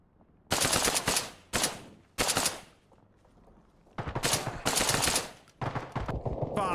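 Bursts of rapid airsoft-style gunfire during a 3 Commando Brigade milsim training night, several loud close rattling volleys of a second or so each, separated by short quiet gaps.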